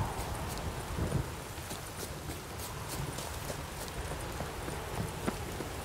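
Horse hooves clip-clop at a steady walking rhythm in The Witcher 3 game, moderately loud and continuous over a dense broadband background with no talk.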